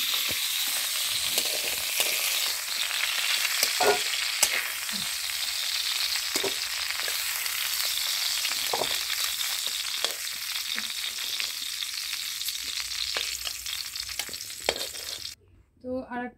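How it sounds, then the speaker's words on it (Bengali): Potato and cauliflower pieces fry in oil in a pan, a loud steady sizzle with occasional stirring clinks and scrapes, ending with a short pause and a few louder knocks. "এখন আমরা দেখি কতদূর ভাজা হলো, ভাজা প্রায় হয়ে গেছে"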